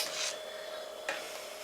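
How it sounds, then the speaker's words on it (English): Hops being stirred into homebrew wort for a 15-minute Cascade IPA, giving two brief raspy scraping strokes, one at the start and another about a second later, against a steady background hum with no talk. "Just give that a little stir just to get those hops mixed in"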